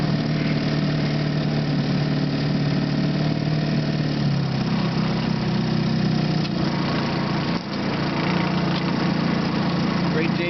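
A 1953 Johnson TN-28 5 hp outboard motor runs at a steady idle on calm Norris Lake, a close, even droning hum with a slight shift in pitch partway through.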